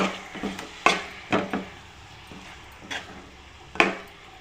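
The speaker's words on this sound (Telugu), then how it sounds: "మనం ముందుగా క్లీన్ చేసుకున్న మటన్ కూడా వేసుకోవాలండి వేసుకొని బాగా కలుపుకోవాలండి" Mutton is stirred in a cooking pot, with a handful of distinct scraping, clattering strokes of a spoon against the metal spaced irregularly over a quiet simmering background, close by.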